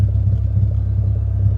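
Deep, loud exhaust rumble from an idling Honda Civic with a stainless catback exhaust, steady and close, with a low throbbing burble and no speech.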